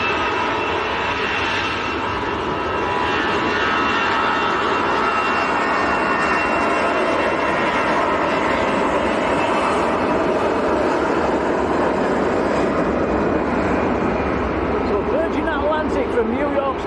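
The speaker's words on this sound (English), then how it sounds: "A350 1000 series. It's got back from New York in 5 hours 34 minutes." An Airbus A350-1000 jet arriving at Manchester Airport from New York JFK roars loudly and steadily with a whining engine tone, while someone talks over it.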